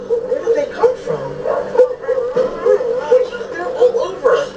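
A pack of at least six or seven dogs barking and yipping near a roadside at night, a dense overlapping chorus of barks and whimpers running continuously with someone talking over it.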